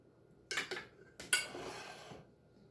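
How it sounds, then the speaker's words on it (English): A knife scrapes and spreads a cold dessert crust layer in a dish, a few short scraping strokes in two clusters, close and soft, with no one talking. "Probably spread it easier with a knife"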